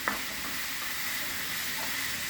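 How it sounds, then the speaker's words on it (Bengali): Bitter gourd sizzling in a pan of mustard oil after a spoonful of ghee goes in, a steady close hiss of frying with a few soft clinks from stirring, with no voices. "ঘিটা এখন আমি দিয়ে দিলাম এক চামচ"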